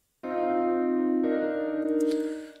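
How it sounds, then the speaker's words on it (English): A synthesized bell-like tone shaped by long reverb swells in and holds steadily, a second struck layer joining midway and brighter shimmer appearing near the end, all sustained and clear with no voices. "when you let the reverb happen, it gives that which is kind of a bell effect"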